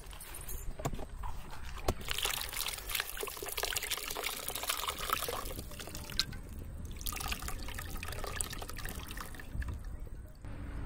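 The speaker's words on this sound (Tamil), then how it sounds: "ரசம் நல்லா கொதி விட்டுருச்சுங்க" Herbal rasam boils in a pan outdoors in a green forest setting, giving a steady, continuous bubbling and gurgling of liquid that stays fairly quiet throughout.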